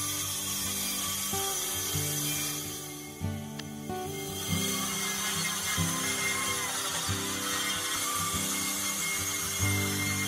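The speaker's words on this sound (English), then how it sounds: "I use the circular saw to cut this into three sections" A circular saw cuts through a plywood sheet guided by a clamped straight edge, its steady whine running nearly unbroken and fairly close, dipping briefly partway through before the cut resumes.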